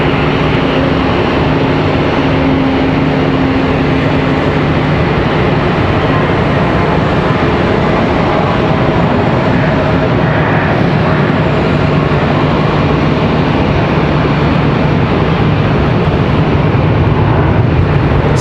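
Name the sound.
A321 airliner landing at Charlotte Douglas airport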